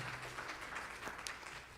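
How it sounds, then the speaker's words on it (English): An audience at a candidates forum claps for itself, a soft, steady patter of many hands at moderate distance, even and sustained without voices over it. "please give yourselves a hand clap of praise"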